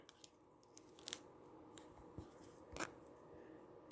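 A plastic knife cuts into a Kind bar in a few scattered crunchy snaps and scrapes, close and fairly quiet, with short pauses between the cracks and no talking.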